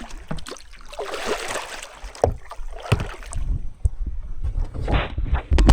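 A 26-foot class expedition kayak paddled through Everglades wilderness water at night, with irregular splashing paddle strokes and gurgling water close by, mixed with bumps and light wind noise on the microphone.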